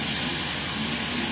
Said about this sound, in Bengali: এবারে মশলা কড়াটা এই ঢেলে দেবো।